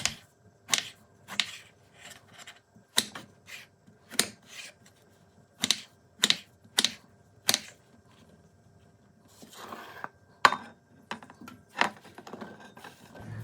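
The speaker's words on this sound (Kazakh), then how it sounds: "Одан соң баклажандарымызды орташа етіп турап алатын боламыз." A knife chopping eggplant into medium pieces for a salad, sharp, distinct cuts on a board at an uneven, unhurried rhythm, close and fairly quiet, with no talking over them.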